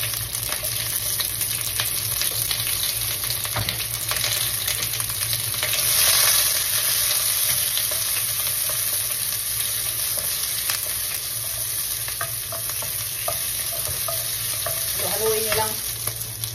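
White onion with red and green peppers sizzles in a pan for sweet and sour spare ribs, a loud, steady, close hiss with intermittent stirring clatter and no talk.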